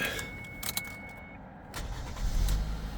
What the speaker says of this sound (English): I can now start the vehicle off the key.